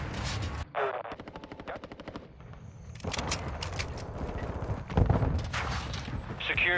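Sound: gunfire in video game Call of Duty: Modern Warfare II

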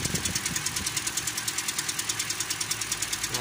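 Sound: Toyota Corolla 3GR 2.0 engine knocking

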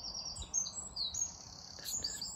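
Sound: birds chirping in woodland along a country road

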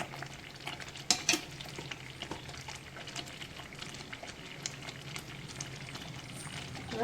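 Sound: stirring Chettinad ukkarai sweet with ghee in pan

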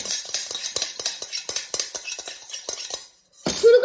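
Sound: mixing Maggi noodles with a utensil, clinking

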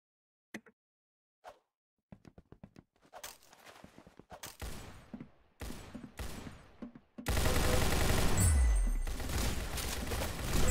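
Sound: gunshots in a video game

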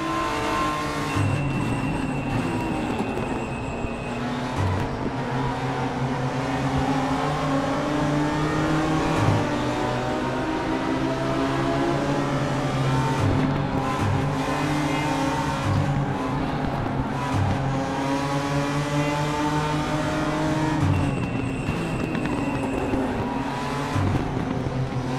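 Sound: BMW M4 GT4 race car engine in RaceRoom video game

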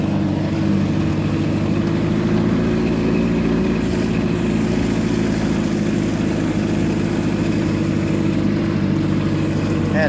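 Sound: Allis-Chalmers G tractor engine running while driving

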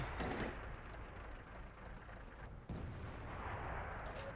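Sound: artillery fire in a tank video game

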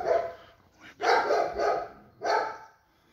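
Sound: dog barking

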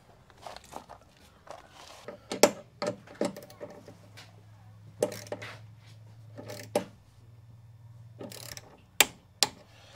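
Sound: tightening bolts on an electrical earth bar

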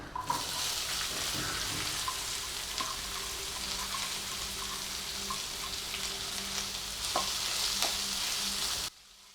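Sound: frying chopped onions with garlic

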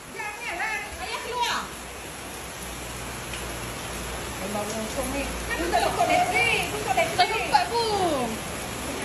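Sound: heavy rain

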